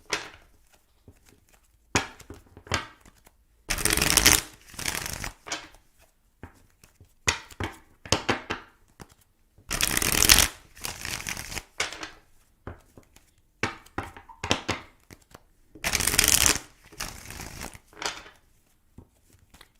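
A deck of tarot cards is shuffled during a reading, in repeated short riffling bursts separated by quiet gaps and soft handling taps, close and alone.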